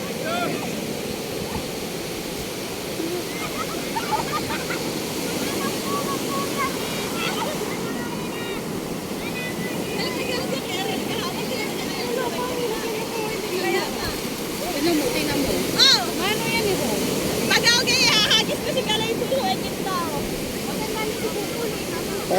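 Ocean waves wash onto the beach at Real Quezon in a continuous broad roar, with wind buffeting the microphone and faint speech in the background.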